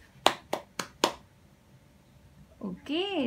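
Four sharp hand claps in a steady, evenly spaced rhythm, close and fairly loud, ringing out alone before a short stretch of quiet; a voice begins speaking near the end.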